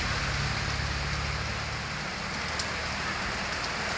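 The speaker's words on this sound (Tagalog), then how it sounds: "Sa lakas ng ulan, oh." Heavy rain pours steadily on a flooded street in the Philippines, a dense, even hiss that holds constant throughout with a faint low rumble beneath.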